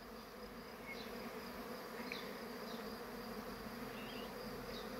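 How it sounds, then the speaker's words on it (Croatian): Honeybees buzzing steadily at an apiary hive, a dense continuous hum of young bees and foragers, moderately near and unbroken, with no talking. "vidite kako te mlade pčele, ali i ove koje sabiračice, sve to radi"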